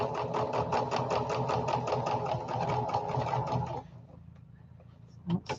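Sewing machine running fast with a loud, steady rapid stitching rhythm for several seconds while skipping stitches, then stopping, followed by faint clicks and handling noise.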